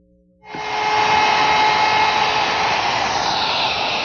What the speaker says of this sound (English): Now I've switched to a 1/8 inch radius bit to ease the corners on the decorative edge